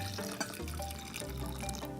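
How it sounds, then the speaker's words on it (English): Water poured from a strainer back into a glass, a close, trickling and splashing pour with small drips, running steadily without speech. "You can just pour it back into your glass."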